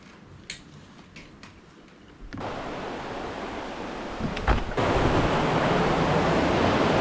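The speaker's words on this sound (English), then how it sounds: "The overnight rains really flooded the river." Rushing river swollen by overnight rain beside an old cabin, a broad steady water roar that grows louder in two steps, with a few scattered clicks and knocks early on.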